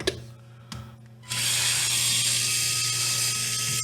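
A small powered screwdriver removing the battery cover screws on a TRX-4M RC truck: a couple of brief clicks, then a loud, close, steady motor whir that runs to the end, with no talk.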